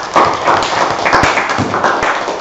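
Classroom audience claps for a group presentation, a brief burst of quick, fairly loud, close clapping with a few heavier thumps.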